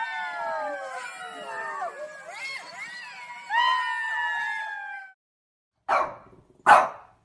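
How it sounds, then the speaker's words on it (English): Several loud, high-pitched barks and yelps from a dog, first a drawn-out whining, howling stretch, then two short sharp barks after a pause. "Dog."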